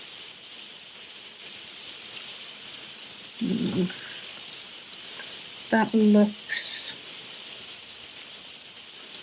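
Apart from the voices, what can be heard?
rain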